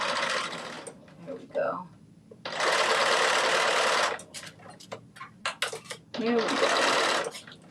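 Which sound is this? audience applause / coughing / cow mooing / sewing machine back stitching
sewing machine back stitching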